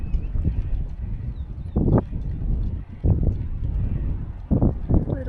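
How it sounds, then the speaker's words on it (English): A small donkey-drawn cart approaches on a road in Argentina, its hooves clip-clopping in irregular clusters over a rumbling, wind-buffeted background, moderately close and growing slightly more distinct. "Little donkey truck coming again."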